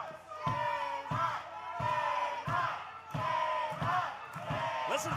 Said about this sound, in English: Listen to the crowd response